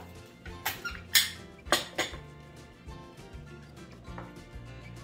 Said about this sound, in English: Just gonna stir that around in the juices.